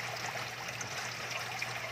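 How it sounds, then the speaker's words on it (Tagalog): Water trickles and pours softly into a crayfish tank holding juveniles, a faint, continuous liquid splash with a low steady hum underneath. "Kailangan tapos dadagdagan ko pa ng tubig."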